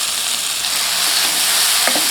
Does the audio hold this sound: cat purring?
no